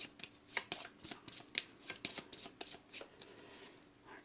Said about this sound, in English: Let me shuffle these first.